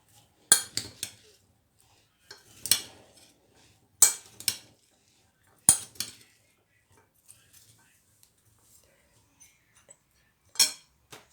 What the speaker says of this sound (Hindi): तो यहाँ मैंने चम्मच ले लिया, इसको मैं मिक्स करूँगी।